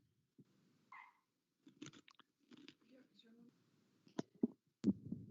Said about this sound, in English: Can you hear me crunching?